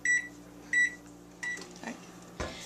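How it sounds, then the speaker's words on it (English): A microwave oven heating chocolate to melt it gives three short, clear electronic beeps spaced evenly apart, then a soft clunk like the door opening, all fairly close and with no talking. "just put it into your microwave for 30 seconds"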